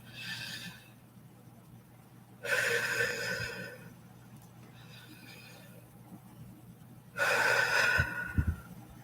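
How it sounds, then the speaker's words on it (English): A person gives a huge, drawn-out yawn, two long breathy gasping swells separated by quieter breathing and faint rustle, close and intimate. "I had a really, really big yawn there."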